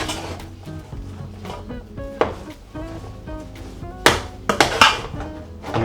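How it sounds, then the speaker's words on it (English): Meat samosa filling with onions and spices is stirred and mixed in a pan, giving a string of uneven clattering knocks and scrapes of a utensil against cookware, with a few sharper loud clacks near the end and no talking. "I'll give that a mix now"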